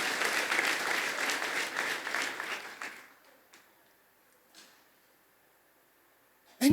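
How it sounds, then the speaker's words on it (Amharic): A church congregation claps loudly and continuously for about three seconds, then the applause cuts off into near silence with a few faint knocks, and a brief voice comes in at the very end. "ሃሌሉያ! እንደገና አጨብጭቡ።"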